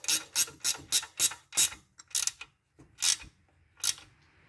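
A ratchet wrench tightens a drive belt on a 1972 Buick Skylark, sounding as a close run of quick clicking bursts, roughly eight strokes that grow slower and more spaced toward the end, with no voices.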